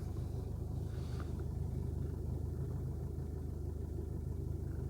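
A cold Mercedes Vito 638 with the 2.2 CDI diesel idles with a steady low rumble and heavy vibration, a continuous drone heard from inside the van with no other sounds over it.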